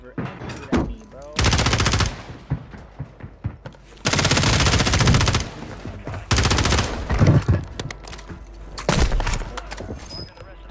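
Automatic gunfire in Call of Duty on Rebirth Island comes in several loud, close bursts of rapid shots, separated by short pauses with scattered single cracks and thuds.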